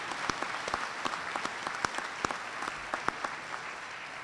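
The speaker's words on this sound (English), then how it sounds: "So please give the board a nice round of applause." Graduation crowd applauds the school board in a steady wash of clapping, with a few louder claps standing out nearby against the dense, even background.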